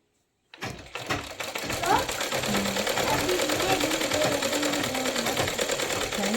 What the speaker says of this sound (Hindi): यहाँ तक हमने इसकी सीधी सिलाई लगा देनी है